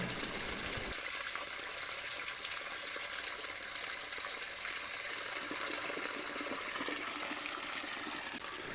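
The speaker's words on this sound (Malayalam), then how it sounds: "വളരെ ശക്തിയായിട്ടുള്ള ഫോഴ്സിൽ തന്നെയാണ് വെള്ളം പോയിക്കൊണ്ടിരിക്കുന്നത്" Water forces through a half-opened valve into a fish tank built from a washing machine, a constant, loud rushing gush throughout with no talking.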